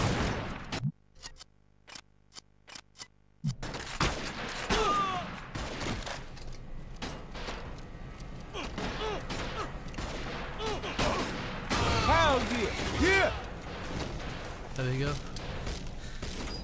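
Shotgun blasts in the PS2 game 50 Cent: Bulletproof, set in Little Italy, fire as sharp bursts amid busy game sounds, with voices talking over much of the action.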